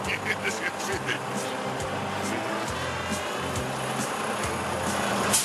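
A video-game garbage truck drives with a low, steady engine hum broken by repeated short mechanical thumps and clicks, while a person talks over it.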